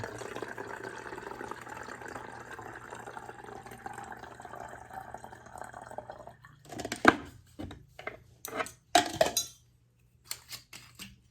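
Water poured from a 20-ounce water bottle to make a peroxide-and-water plant food mix for rooting cuttings in soil, heard as a steady close trickle for several seconds, then a series of short splashes and drips.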